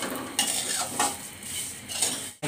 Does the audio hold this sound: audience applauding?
no